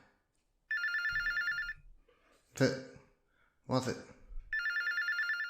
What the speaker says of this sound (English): Phones have been ringing off the hook all night.